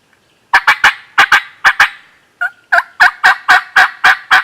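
A wild turkey gobbles in a quick series of about a dozen loud, evenly spaced bursts, close by in Vermont, with a short pause partway through.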